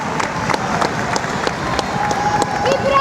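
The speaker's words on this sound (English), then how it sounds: "something that I think is going to get a big round of applause from everybody" Crowd clapping with a broad wash of hand claps and scattered sharper claps, fairly loud and continuous for a few seconds, with faint voices mixed in.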